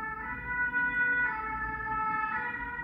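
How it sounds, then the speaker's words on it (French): A wailing emergency vehicle siren holds steady and loud for about three seconds, its tones shifting pitch slightly as it passes, with a low road rumble underneath and no voices. "Voilà, la sirène est passée."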